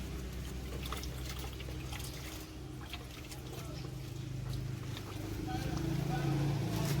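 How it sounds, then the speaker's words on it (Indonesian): Water is poured onto a soil medium for air layering a bilimbi tree, making a steady outdoor trickle and splash over a low rumble that grows slightly louder toward the end. "Saya siram dulu media ini."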